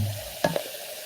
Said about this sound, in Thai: เสียงฟองซ่า